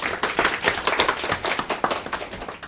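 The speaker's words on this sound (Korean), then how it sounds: "큰 박수로 환영해 주십시오." Audience claps to welcome a speaker at a Korean science policy forum, a lively round of many hands beating in quick, even rhythm, close and steady throughout.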